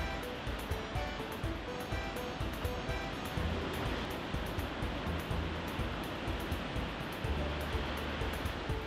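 Continuous roaring surf from a king tide on a rocky shore at Shore Acres State Park, waves crashing and churning in a dense, steady wash of water noise with no voices.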